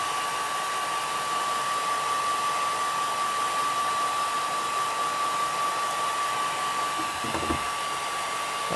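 A hair dryer runs steadily on maximum heat, warming a plastic car part, a constant loud whooshing hiss with a steady whine, close by and alone throughout.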